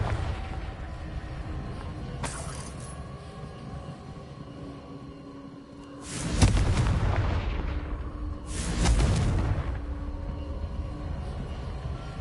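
Two heavy blasts from the Confringo fire spell in the Hogwarts Legacy video game, each a loud broadband burst with a rumbling tail, a few seconds apart over a steady game ambience.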